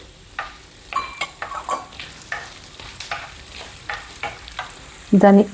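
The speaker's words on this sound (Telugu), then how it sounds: "గ్యాస్ మీడియం ఫ్లేమ్లో పెట్టుకొని ఫ్రై చేసుకోవాలండి" Coriander seeds, cumin and fenugreek dry-roasting in a pan over a medium flame, rapid rhythmic scraping and rattling of a spatula through the seeds, close and clear, ending with a brief louder clatter.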